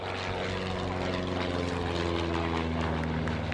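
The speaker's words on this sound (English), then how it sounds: "So the little Andreasen, they're capable of about 95 to 100 knots flat out downhill with the tailwind" Andreasen light aircraft flying past at an air display, a steady droning propeller engine with a buzzing harmonic tone, continuous and moderately distant, with no other sounds over it.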